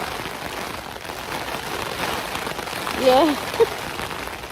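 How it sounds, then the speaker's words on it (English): Heavy rain beats on a DD tarp at a camp beside a Scottish loch during a monsoon-like shower, a dense steady patter with a brief voice near the end. "the rain's coming at us from all directions here."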